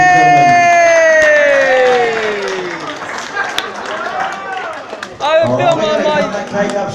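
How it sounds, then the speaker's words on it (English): An 18th birthday party crowd cheers and applauds loudly, with whoops and raised voices over a dense clatter of clapping that eases slightly midway, then swells again. "Give yourselves a round of applause, ladies and gentlemen."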